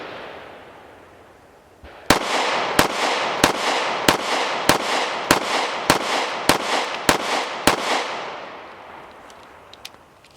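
Smith & Wesson CSX Micro 9 pistol fired outdoors in a steady string of about a dozen sharp, loud shots at an even pace, each crack followed by a short echo, with no talking.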